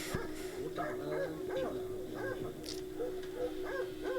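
A mother dog at a dog meat market gives repeated short yips, whimpers and barks in an uneven rhythm, fairly close, over a steady hum and background murmur.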